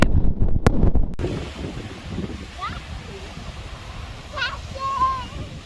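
Strong wind blows on a beach at Ningaloo. It buffets the microphone in heavy, rumbling gusts, then eases into a steady roar, with faint brief chirps now and then.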